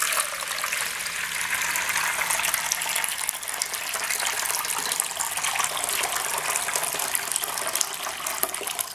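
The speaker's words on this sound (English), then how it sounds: "Okay, let's pour the water in." Water is poured into a fish bowl for a robotic toy fish, giving a steady, loud gushing pour that runs evenly for the whole stretch without any talk.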